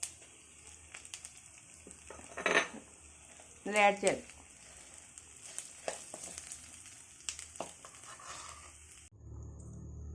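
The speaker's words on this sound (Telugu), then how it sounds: "మొత్తం అంతా కూడా బాగా ఆయిల్లో ఫ్రై అయింది కదా" Leaves for pulihora (tamarind rice) fry in hot oil, a steady sizzle running under someone talking, with a few louder stirring scrapes and clatters in the pan.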